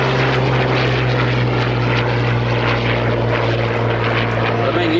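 A Hawker Hurricane Mk.I fighter at an air and car show drones steadily with a propeller engine hum, a continuous mid-distance roar heard beneath someone speaking.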